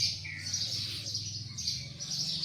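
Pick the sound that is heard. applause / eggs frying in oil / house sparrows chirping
house sparrows chirping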